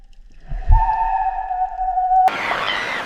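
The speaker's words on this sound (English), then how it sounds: "The killer whale is here," Killer whale off the Patagonian coast gives one long tonal whistle with clear harmonics, rising slightly then holding steady before cutting off abruptly into a burst of noisy water-like hiss.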